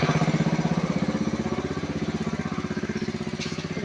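A small engine-driven water pump filling a swimming pool chugs steadily up close, its rapid regular putter loud and even throughout, with no talking.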